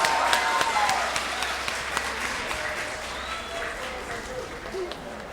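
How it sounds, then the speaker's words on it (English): Audience clapping at a Lunar New Year celebration show, sustained applause from a crowd with occasional cheers and a hum underneath, gradually easing over several seconds. "A round of applause."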